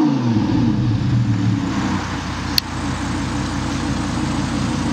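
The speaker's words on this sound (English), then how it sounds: "Rev it up a little bit." A 600 hp Audi R8 engine revving inside a car wash, a steady loud engine drone with low rumble and a brief sharp blip midway, heard close and alone.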